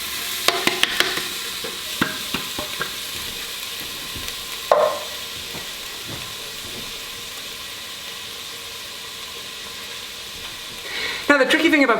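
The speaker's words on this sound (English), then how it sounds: "Once that butter starts to sizzle, you can put the onions in." Butter sizzles as onions fry in an Instant Pot on saute, giving a steady moderate hiss with scattered clicks and stirring knocks near the start and end.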